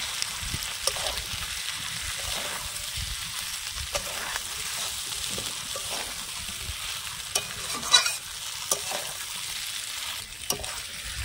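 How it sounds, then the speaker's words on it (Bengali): Jackfruit and fried potato pieces stir-fried with spices in oil give a steady close sizzle, broken by repeated scraping stirs and a few sharp clinks of the spatula. "এখন এই এঁচড় আর আলু ভাজাটা দিয়ে দেবো। মশলার সাথে একটু ভালোভাবে নেড়ে চেড়ে মিশিয়ে কষিয়ে নিতে হবে।"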